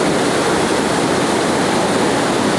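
Rushing water of the Kargah Nala stream in Gilgit, used for hydropower, roars as a loud, steady broadband wash from close by, unbroken and with no voices.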